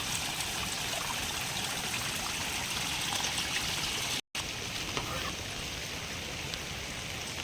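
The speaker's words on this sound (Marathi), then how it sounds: "आमचा छोटूसा झरा" A small garden stream trickles and burbles steadily, a soft continuous wash of flowing water with no voices.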